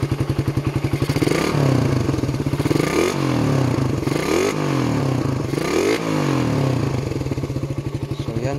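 Raider 150 motorcycle fitted with a Gen 1 plus exhaust canister and 51mm big elbow revs hard and close, rising and falling in repeated throttle blips over a steady idle rumble.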